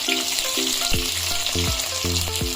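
A large, long-sliced onion fries in two spoonfuls of hot oil for a mutton curry, giving a loud, steady sizzle close by with recurring pitched tones over it.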